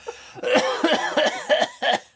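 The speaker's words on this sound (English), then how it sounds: "I'm gonna cough." A run of several harsh, close coughs in quick succession, each a short rough burst, with no talking.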